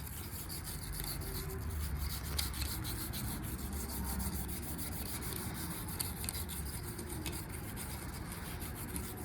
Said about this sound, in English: getting my little angle brush in there, trying to clean out the little pockets where the spark plugs go